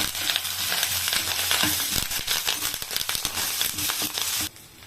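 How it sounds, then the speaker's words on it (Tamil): Curry leaves and green chillies sauté in hot oil with a loud, crackling sizzle and sharp spitting pops, mixed with stirring scrapes, cutting off abruptly near the end. "இப்போ அடுத்தது கருவேப்பிலையை போட்டுட்டு பச்சை மிளகாய் போட்டுக்கலாம். கொஞ்சம் 2 நிமிஷம் வதக்கிடுவோம்."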